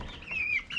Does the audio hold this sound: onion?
no